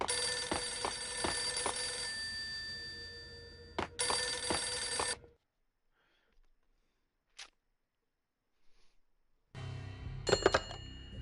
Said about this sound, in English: Can you pick up the phone?